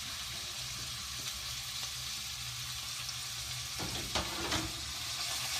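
Celery fries in a pan for an elephant-garlic and potato stew, giving a soft, steady hiss. Faint clinks and a light stir come near the end.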